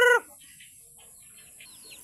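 A short, loud cluck from a nearby chicken, followed by quiet with faint, scattered bird chirps in the background.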